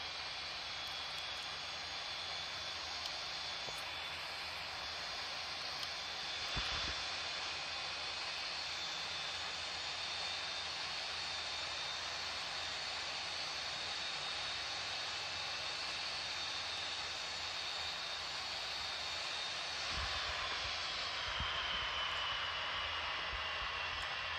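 Simulated Ryanair Boeing 737 MAX 8 jet engines whine and roar steadily during taxi in a flight simulator game, a constant broadband hiss with a high tonal whistle and brief soft thumps, no talking.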